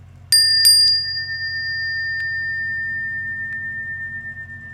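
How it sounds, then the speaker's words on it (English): A Bali bell is struck a few times in quick succession, giving clear, high metallic rings that then sustain as a long, slowly fading tone. "I have a beautiful Bali bell from Denise Lynn"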